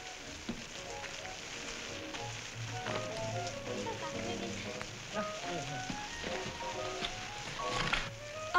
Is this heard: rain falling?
yes